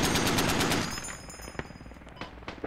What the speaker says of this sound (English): Oh, alright, just small arm fire.